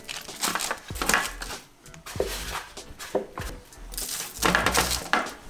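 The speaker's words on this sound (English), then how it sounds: "So make sure they're all rolled nice and sugary." Peanut butter cookie dough balls for vegan chocolate chunk blossoms are rolled in a bowl of sugar, with soft gritty rustling and scraping in several short bursts separated by pauses, close up.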